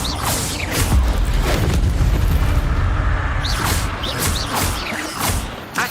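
A fire spell cast in Hogwarts Legacy bursts out as a sustained roaring whoosh, loud and dense throughout, with thudding low rumbles and crackling swishes, and no talking.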